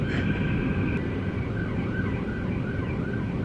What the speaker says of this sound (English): Usually I'm pausing for sirens.